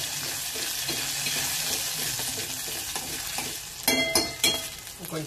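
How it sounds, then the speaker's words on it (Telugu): Chana dal fries and is stirred in a pan, giving a continuous sizzle with scraping strokes, then a few sharper clinks and louder scrapes near the end. "పప్పు దోరగా ఎగనిద్దాం."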